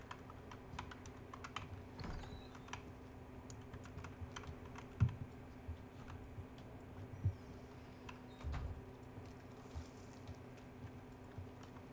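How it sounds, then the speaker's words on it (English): Typewriter keys clacking in the Resident Evil 4 Remake video game, a sparse run of light ticks and taps spread over several seconds above a steady low hum, with no talk. "Typewriter. Type no damn essay."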